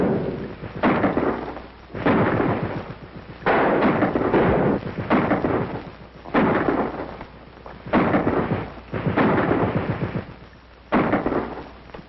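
Gunfire in a World War II film set in Nazi-occupied Norway, a rapid series of loud, sharp bursts crackling and booming in repeated volleys of about a second each, close and dense, with no talk over it.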